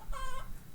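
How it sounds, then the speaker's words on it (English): Chickens clucking around a coop in the Roblox video game, a short burst of nearby clucks with a tonal cluck-like call standing out briefly. "I don't know where the chickens are that are making all this noise"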